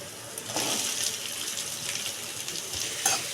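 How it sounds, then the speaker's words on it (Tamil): Brinjal is added to onions frying in a pan, giving a steady, close sizzle with a few faint bumps and no talking. "இந்த அளவு வதங்கினதுக்கு அப்புறமாட்டி நம்ம வீட்டு கத்திரிக்காயை ஆட் பண்ணிக்கலாம்."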